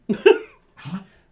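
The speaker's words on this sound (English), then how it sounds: "she's got a bad cough" A pet coughing twice indoors, two harsh bursts close together, the second softer and lower, with nobody speaking.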